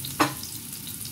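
A ground spice paste with lime leaves and salam leaves sautés in a pan as filling for chicken lemper, giving a soft steady sizzle with one brief stir or clatter near the start.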